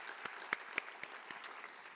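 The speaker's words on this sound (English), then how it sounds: "Give yourselves a big round of applause." Sparse, faint applause from an audience at a Harvard University generative AI symposium, a handful of distinct claps spaced irregularly across two seconds, thin and distant in a large room.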